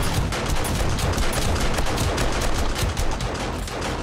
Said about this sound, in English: those turrets up top have had to do some shooting